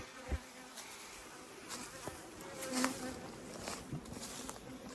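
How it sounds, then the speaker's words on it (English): A hornet buzzes around an outdoor racket, a faint wavering insect drone with a few brief louder passes and light ticks against a quiet background. "there's nothing better than the sound of a hornet going into that racket"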